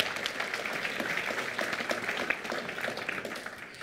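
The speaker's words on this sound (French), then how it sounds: "Oui, on peut applaudir Monsieur Flippo." An audience applauding a witness called to the stand at a French public debate on digital technology and the planet, a steady dense patter of many hands clapping at moderate distance throughout.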